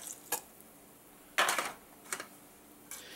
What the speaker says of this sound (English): Usually I wouldn't have you watch me stir this in